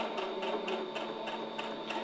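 A sewing machine stitches bias tape onto an apron at a steady moderate pace, giving a continuous mechanical hum with an even, quick rhythmic ticking, close and alone.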